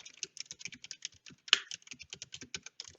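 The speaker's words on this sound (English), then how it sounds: "So here's me typing on the keyboard." Rapid keyboard typing, a steady run of light clicks and taps close to the mic, with one sharper keystroke partway through.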